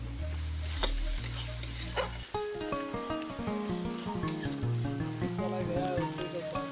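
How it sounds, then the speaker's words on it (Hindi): Katla fish with onion sizzles steadily in a hot pan while being stirred, a continuous loud frying hiss broken by scraping stir strokes, with a low hum early on. "सभी को मिक्स करते हुए अच्छे से हम फ्राई करेंगे।"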